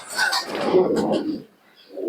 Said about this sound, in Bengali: দেখুন কেমন হাঁপাচ্ছে পায়রা এই মাত্র নামলো